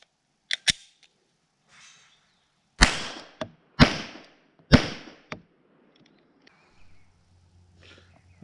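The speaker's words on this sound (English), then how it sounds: "now 3 rounds of the subsonic 9mm." Three unsuppressed subsonic 9mm gunshots fired in fairly quick succession, each a sharp loud crack with a short decay. Fainter clicks and handling noises come before and after them, with no talking.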